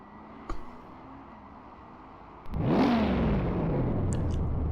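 In the rFactor 2 racing sim, a 1967 Renault 8 Gordini 1300 engine cranks over, fires up and revs once with a rising then falling whine. It then settles into a steady, fairly loud idle.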